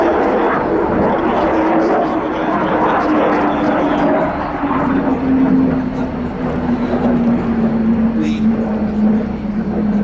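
An F-15QA fighter jet flying at the RIAT airshow, a steady loud roar of jet engine noise with a slowly falling tone throughout, under continuous commentary.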